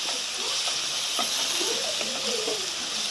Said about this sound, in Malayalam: അതിൻ്റെ പച്ചമുളകൊക്കെ മാറി വരുന്നത് വരെ നന്നായിട്ടൊന്ന് വഴറ്റിയെടുക്കാം.